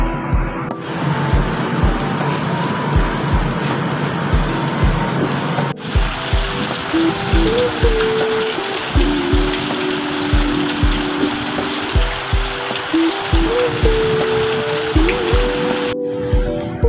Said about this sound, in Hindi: उधर तो बारिश हो रही है